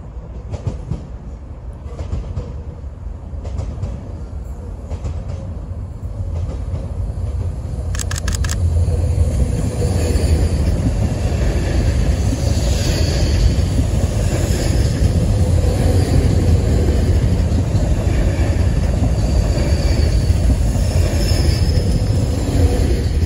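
An S71 train passes near railway platforms, with a rumble that swells and then holds loud and steady, clattering wheels and occasional squeals on the rails, and no talking.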